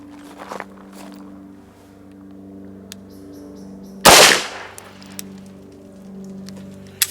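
A Beretta M9A3 pistol fires one loud, sharp shot on an outdoor range after a slow double-action trigger press, with a steady low hum and small handling clicks around it.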